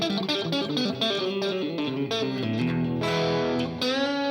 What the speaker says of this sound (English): Starting with clean tones, like that you use for whatever,